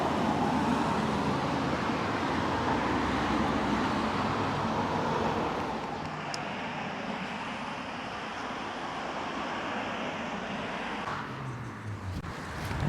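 A city bus, number 15, pulls up amid steady street traffic, its broad engine and road rumble loud and continuous, easing slightly as it arrives.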